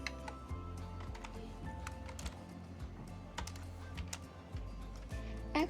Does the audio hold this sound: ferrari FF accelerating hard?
no